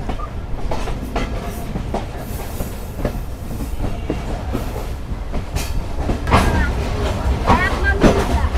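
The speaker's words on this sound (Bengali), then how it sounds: "আন্তনগর বাংলা বান্দা এক্সপ্রেস প্রবেশ করছে মাদনগর রেলওয়ে স্টেশনে" Intercity Banglabandha Express rolls into Madnagar railway station, a steady loud rumble of rail cars with clacking wheels building toward the end, while people talk over it.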